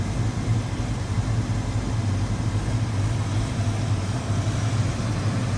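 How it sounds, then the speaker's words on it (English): A 1992 Ford Mustang LX 5.0-liter V8 idles steadily and smoothly, a deep continuous rumble held at an even level from start to finish with no voices. "There it is. 5-liter V8."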